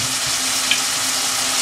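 Mushroom manchurian is stirred with soya sauce and tomato chili sauce in a hot pan, giving a steady close sizzle with a soft scrape of the spoon, and no one speaks.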